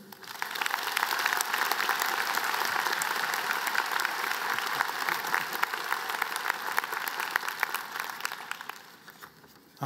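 Sustained applause from a commencement audience at Johns Hopkins University welcoming the speaker, dense and even clapping from many hands that swells quickly, holds steady, then tapers near the end.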